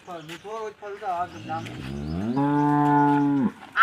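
A cow lets out a long, loud, sustained moo close by, following a few shorter lowing sounds and some talk.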